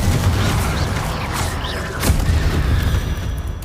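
Heavy booming explosion from a Confringo fire spell in the video game Hogwarts Legacy, a loud continuous rumble with a sharper burst near the middle, no voices.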